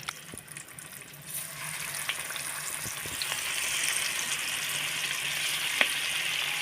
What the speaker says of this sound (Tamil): மிச்ச மீனையும் வறுத்துடலாம்.